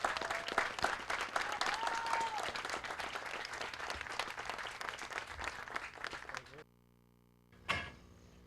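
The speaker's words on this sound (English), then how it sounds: "a big round of applause for the Joliet Police Pipes and Drums" A festival audience at a veterans' event applauds the Joliet Police Pipes and Drums, a broad wash of clapping with murmur that fades and cuts out, followed by a brief isolated thump.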